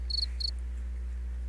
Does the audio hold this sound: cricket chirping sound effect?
yes